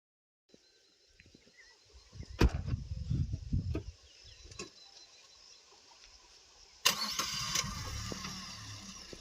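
A car engine is cranked in a few close, choppy bursts, goes quiet for a moment, then catches and fires up into a loud, steady running sound.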